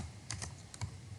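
Quick light keystrokes on a computer keyboard as C code is typed, a handful of soft close taps over a low steady hum, with no talking.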